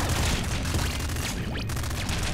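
Laser cannon fire in the PC game Nuclear Throne, a loud, dense and continuous barrage of crackling, booming blasts that fills the whole stretch without pause.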